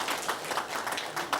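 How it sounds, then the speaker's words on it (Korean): A church congregation claps for the standing elementary-school children during a Sunday service, a brief burst of steady applause from many hands filling the room. "박수 한번 받자"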